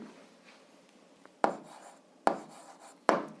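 Pen or chalk writing during an 8th-grade algebra lesson, heard as three sharp strokes spaced under a second apart over a quiet room hush, without any talk.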